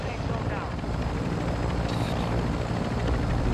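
Helicopter in the video game Warzone 2.0, a loud continuous rotor thrum and engine roar filling the whole stretch without letup, with a player's voice speaking over it.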